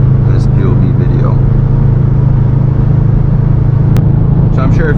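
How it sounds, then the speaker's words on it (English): Subaru WRX STI Type RA fitted with axle-back exhausts, giving a steady, loud low engine and exhaust rumble from inside the moving car, with faint talk briefly over it. "we did get to do the axle backs. We talked about it at the end of the car buy-in, so you get to hear a little rumble hopefully in this POV video"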